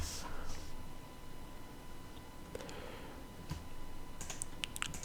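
A username and password are typed on a computer keyboard, heard as quiet, scattered key clicks with a short rapid cluster near the end, faint and close over a low background hum.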